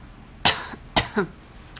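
A man coughs several times in quick succession, close and fairly loud, the sharp bursts spaced across a quiet moment with no speech.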